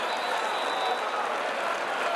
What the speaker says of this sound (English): he gets an ovation from the crowd here as he has been banged up